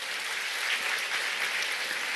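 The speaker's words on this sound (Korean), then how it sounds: "여러분 회장님께 감사의 박수도 한번 부탁드리겠습니다." A large seated audience claps together in sustained, even applause at a business seminar talk, with no voices over it.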